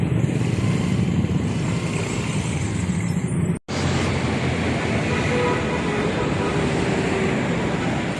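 Interior of an LRT light rail train heading toward Quiapo, a loud continuous rumble and rolling roar with a momentary dropout partway through, steady and close.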